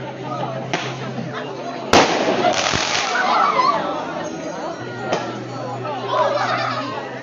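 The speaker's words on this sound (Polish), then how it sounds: "Pan Piotr Gurgul przygotował taki specjalny fajerwerk na cześć Olimpijki." A special firework set off outdoors in a village welcome for an Olympic silver medallist: sharp bangs and cracks ring out amid a lively crowd, with children and adults talking throughout.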